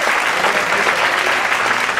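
A church congregation gives the Lord a loud round of applause, a dense burst of close clapping lasting about two seconds.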